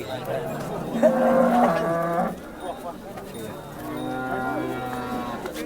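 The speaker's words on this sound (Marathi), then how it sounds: "शेतकऱ्याची गाय मित्रांनो शेतकऱ्याजवळची गाय बघू शकताय तुम्ही" A cow at the Modnimb cattle market lows twice, each time a long, loud moo lasting over a second, with a short gap between them and faint background noise throughout.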